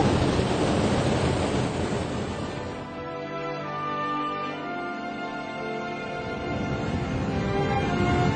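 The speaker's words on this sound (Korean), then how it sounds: "파도가 밀려올 때마다 한 번씩 힘찬 기세로 물줄기가 솟아오릅니다." Ocean surf on the coast of northern Spain surges into a natural sea fountain, making a loud, rushing roar of churning water and spray that swells, eases slightly, then builds again, with wind buffeting nearby.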